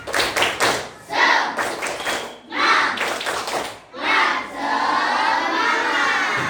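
A school class performs a rhythmic clapping cheer, with bursts of hand claps and tapping in a patterned beat punctuated by children's chanting voices, ending in a sustained stretch of clapping.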